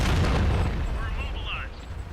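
An artillery shell in World of Tanks lands as a deep, loud boom at the start, its rumbling low end fading over two seconds while faint game tones ring above.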